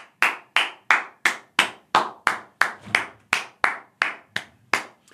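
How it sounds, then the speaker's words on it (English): Single pair of hands clapping sharply and evenly, about fourteen distinct claps in a steady rhythm, close and loud with nothing else behind them. "I'm not just applauding the book. That's so I can sync up my audio."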